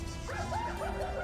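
Dogs in the video game Darkest Dungeon give a short run of yipping barks and whimpering yelps over a low, droning game background, fairly faint and quick.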